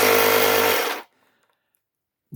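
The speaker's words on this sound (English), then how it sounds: "machine will pump up dozens and dozens of bike wheels" A 12V car tyre air pump, converted for inflating bike wheels, runs with a loud steady buzzing drone for about a second, then cuts off into near silence before a brief noise at the end.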